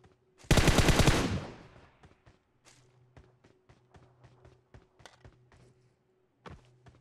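A Tommy gun fires a fast, loud automatic burst of about a second in PUBG Mobile, then fades into a long echoing tail. Scattered soft thuds and footsteps follow, and a single late shot is heard.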